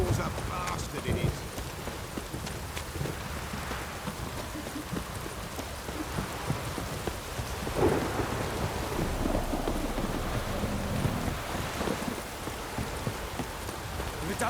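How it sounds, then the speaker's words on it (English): Thunder rolls through steady heavy rain in a downpour from The Witcher 3, with horse hooves clopping and people talking beneath the continuous storm. "If it don't stop raining,"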